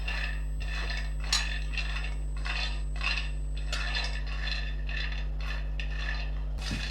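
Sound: peanuts being dry-roasted on low gas in pan

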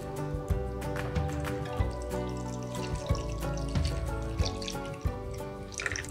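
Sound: water poured into shower drain, draining through pipes

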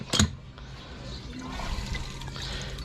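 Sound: water being poured in

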